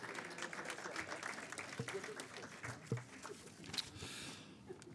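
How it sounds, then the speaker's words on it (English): A laundry and dry cleaning awards ceremony audience gives a short round of applause, heard faint and distant as a steady patter of clapping with some voices mixed in. "Give Martin a little round of applause."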